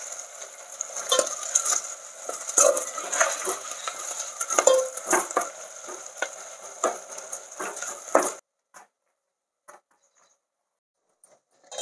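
Onions and green chillies fry in a pan with busy stirring, producing clattering utensil scrapes over a sizzle for about eight seconds before it falls abruptly silent.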